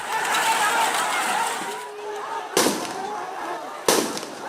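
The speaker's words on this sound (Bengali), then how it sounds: "এ সময় টিয়ারশেল ও সাউন্ড গ্রেনেড ছুড়ে পরিস্থিতি নিয়ন্ত্রণে আনে পুলিশ" Sound grenades and tear gas shells fired by police during street clashes with protesters, heard as two sharp, loud bangs spaced about a second apart over a continuous crowd din.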